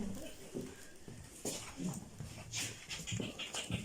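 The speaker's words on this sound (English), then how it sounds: "There are some dogs around" Dogs pant near and fairly loud at an indoor community talk event, a steady breathy rasp with a few sharper bursts over a noisy room.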